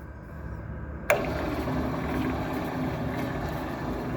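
Holzmann band saw switched on with a sharp onset that settles into a steady, close motor hum and whir with a bright high whine, running evenly with no talking.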